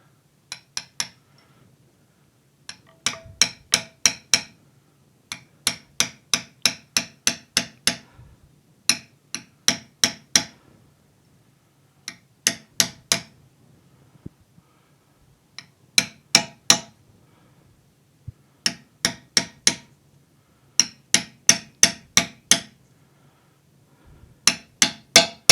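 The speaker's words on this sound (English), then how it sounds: "You can hear when that brass punch starts to hit the casting." A brass punch hammered against a final drive casting on a DB990 tractor: repeated bursts of sharp metallic strikes in quick runs of several blows, each ringing brightly, close and loud with short pauses between.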